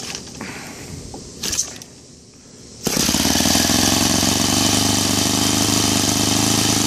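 A Laser 160 engine fitted with a converted CH ignition: quiet mechanical fiddling, then it fires abruptly and settles into a loud, steady idle with a continuous rattling hum.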